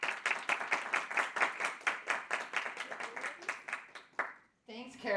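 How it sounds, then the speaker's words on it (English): An audience at a restoration talk claps for several seconds to welcome the speaker, a steady patter of many hands that fades out before a voice begins speaking. "please give her a round of applause to welcome her"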